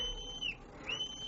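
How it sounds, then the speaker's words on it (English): A whistle is blown twice in a radio drama set on a sandy coast at night, each a thin, fairly faint high blast lasting under half a second, heard alone over a quiet background. "so in desperation I blew my whistle"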